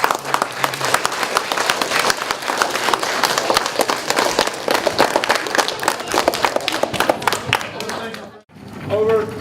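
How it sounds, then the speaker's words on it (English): Students at E. Wilson Elementary School applaud loudly and energetically in a school assembly, a dense burst of clapping that carries on for several seconds before cutting off abruptly near the end. "let's get one big applause for Skip."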